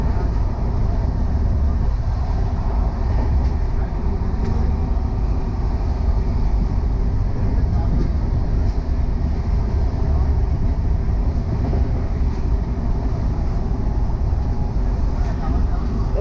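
Coromandel Express train running at high speed, a steady loud rumble and rattle of wheels and carriage noise holding constant throughout, heard from inside with no clear talk over it.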